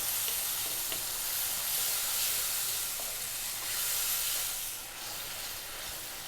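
Tomato cooking down in a pan for a curry, a loud, continuous close sizzle and hiss with soft stirring movements, no talking.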